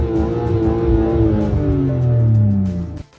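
A car engine running during a cold-start warm-up, its revs sweeping down steadily over a few seconds before cutting off abruptly, loud and close with no talking.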